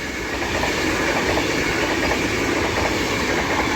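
An Avanti West Coast train, 39128 City of Preston, roars through Stafford station on the West Coast Main Line with a loud, steady rush of wheels and rail noise filling the whole stretch.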